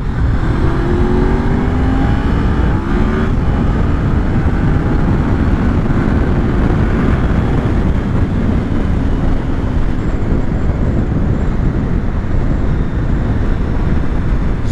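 Honda VFR 750 motorcycle engine accelerating hard and climbing through the revs, a loud continuous roar heavily masked by rushing wind noise.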